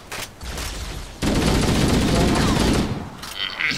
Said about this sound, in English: I'm getting shot, I'm getting shot, I'm getting shot.